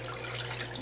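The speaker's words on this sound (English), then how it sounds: "Now, this pasta is going to need water. Cold water, to be exact." Cold water running steadily from a kitchen tap to fill a pot for pasta, a constant close hiss of flow with a low hum underneath, no talking.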